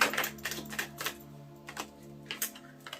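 Tarot cards being pulled from a deck, quiet papery flicks and snaps in short irregular bursts over a faint steady hum, with no voices.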